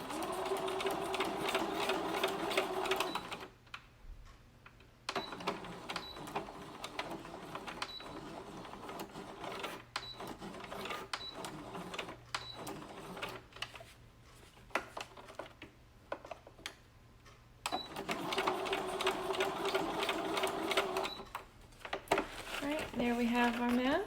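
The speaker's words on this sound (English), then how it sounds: "That way we can sew this side going down." Sewing machine stitching a fabric face mask in quick rattling bursts, stopping for pauses in the middle, with the close mechanical chatter resuming near the end.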